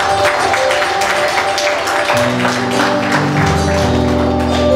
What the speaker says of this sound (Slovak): Dajme mu potlesk.